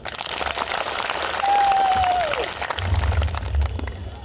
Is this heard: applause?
yes